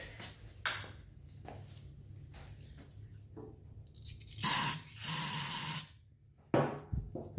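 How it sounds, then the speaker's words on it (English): Carburetor cleaner sprayed onto the carburetor of a Generac GP3250 generator: two loud close aerosol hiss bursts, then a shorter third, among quiet handling clicks and scrapes. "I'm gonna spray that down with some carburetor cleaner, see if that'll loosen it up a little bit"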